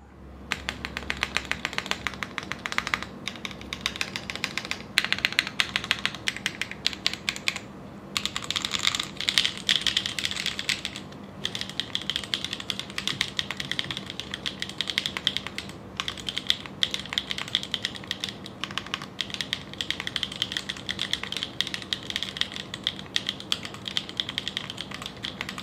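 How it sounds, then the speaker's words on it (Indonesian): Continuous typing on a Neo Ergo mechanical ergonomic keyboard, a dense steady stream of close, crisp keystroke clacks with brief pauses, no talking. "Dan buat karakter suaranya silakan kalian dengerin sendiri."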